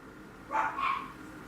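A couple of brief dog barks or yips, soft and somewhat distant, heard indoors over a low room hum.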